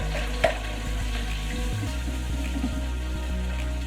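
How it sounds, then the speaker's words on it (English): Canned plum tomatoes tipped into a hot pan for a marinara sauce, giving a soft steady sizzle and bubbling after a brief splashy plop at the start, with low kitchen hum beneath. "But now in goes the canned tomatoes."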